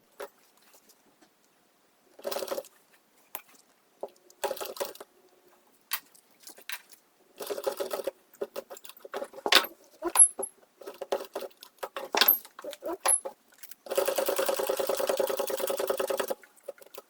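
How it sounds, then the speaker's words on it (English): A sewing machine stitching Velcro onto blue plaid tartan fabric: short bursts of rapid mechanical whirring separated by quiet pauses, ending in a longer steady run, close and clear. "So I typically just clamp it in place with 2 clamps just to hold it while I sew."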